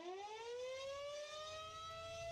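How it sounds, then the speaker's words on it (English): A tornado siren, a civil-defense type bought online, sounds alone as a continuous rising wail with layered harmonic tones, steady and fairly faint for about two seconds. "they bought a tornado siren on the internet and loves to show it off"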